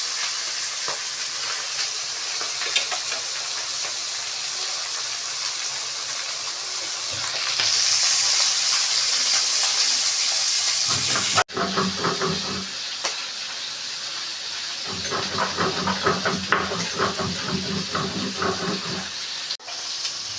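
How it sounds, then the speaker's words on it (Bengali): Tangra fish frying in hot oil indoors on a home stove, a loud continuous hiss and sizzle that swells midway, then breaks into crackling bursts after a sharp knock as the fish is moved. "আমার মাছটা ভাজা হচ্ছে"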